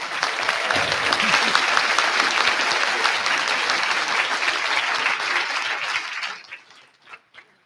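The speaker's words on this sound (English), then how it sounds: "All in favor of the courtesy resolutions, please signal your approval with applause." A convention audience applauds in approval of courtesy resolutions at a diocesan business session, sustained dense clapping that fills the hall for about six seconds before tapering off into scattered final claps.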